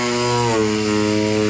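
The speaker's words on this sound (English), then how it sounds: "I'm gonna sand this up and come in here" Power sanding on a damaged fiberglass car AC box, a steady loud whining motor drone with a slight pitch drop partway through, running continuously without talk.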